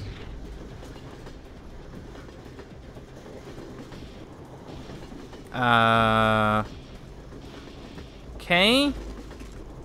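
A moving train in the Hunt Down The Freeman video game rumbles steadily throughout, with a brief spoken word and two short bursts of tonal game sound over the continuous rolling noise.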